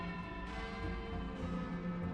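Infernal bells ring in the video game Sunless Skies, a soft, sustained tolling hum with lingering tones over a steady ambient wash, faint and continuous throughout.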